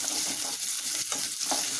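Small onions sautéing in oil for a mushroom kulambu: a dense, continuous sizzle with soft stirring brushes, close up and loud for a brief moment.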